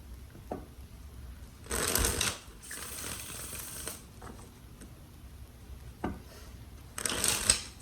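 Tarot cards are shuffled by hand in several quick riffling bursts with pauses between, close and fairly quiet in a still room.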